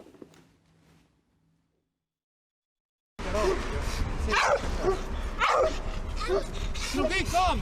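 At Pirita, a dog barks loudly and repeatedly during a quarrel between dog owners. The barking breaks out after near silence, with agitated human voices talking over it.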